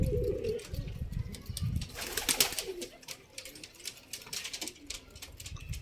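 Pigeons coo in low, soft, repeated calls alongside rustling, scratching and fluttering movement nearby, with scattered clicks and taps over a quiet background.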